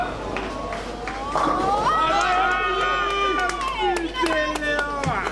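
A home crowd at a European bowling championship singles squad cheers and shouts loudly and continuously, with rising whoops and scattered claps mixed with chatter.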